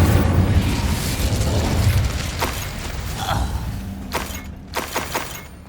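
An Incendio fire spell in Hogwarts Legacy erupts in a loud, rushing burst of flame that fades over a few seconds, followed by scattered pops and crackles of impact.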